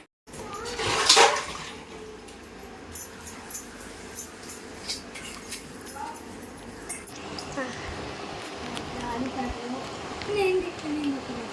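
Tap water runs while cooking utensils are rinsed in a home kitchen, a near splashing rush with clattering dishes, someone talking over it and a brief louder gush early on.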